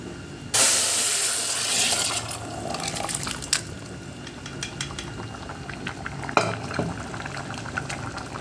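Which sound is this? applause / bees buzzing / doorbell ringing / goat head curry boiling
goat head curry boiling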